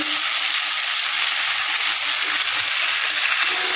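Lukewarm water poured into a pan of frying mourola fish jhal curry sets off a loud, continuous close-up sizzle that hisses steadily without pause.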